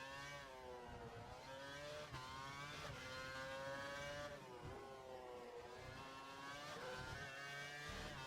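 A Formula 1 car screams around the Valencia circuit in the F1 2012 video game, its high engine note climbing through gears with brief dips at each shift, continuous and faint with no talk.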